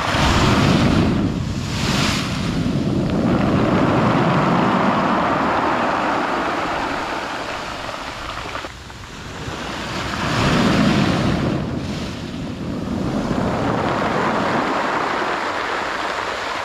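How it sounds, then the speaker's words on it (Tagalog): Ocean waves pounding the shore beneath an eroding bank, surging in broad swells that rise, fade and build again, with gusty wind buffeting the microphone throughout. "Dahil sa paghampas ng alon dito sa ilalim."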